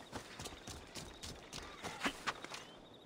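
Horse hooves clip-clopping in Assassin's Creed Odyssey, a steady series of sharp hoof strikes at a walking-to-trotting pace, fairly close and distinct, with no talk over them.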